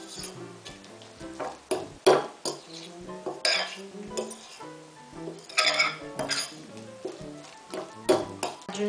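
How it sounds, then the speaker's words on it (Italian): A fork mashes and stirs a sticky oat bran mixture in a bowl, clinking repeatedly against the sides in an irregular rhythm, close and fairly loud. "amalgamiamo sempre in questo modo con la nostra forchetta, schiacciando tutto il composto"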